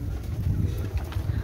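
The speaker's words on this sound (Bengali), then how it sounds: "আজকে কিছু কবুতর আপনাদেরকে আমি দেখাচ্ছি" Cross-bred pigeons in a loft coo in low, throaty, repeated rolls, close and fairly loud throughout.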